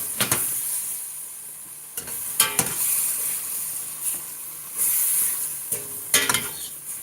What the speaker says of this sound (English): and then we're going to just fry that up in there